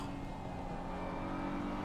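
A BMW race car engine in a racing game drones steadily at high revs, a sustained buzzing whine with no voices over it.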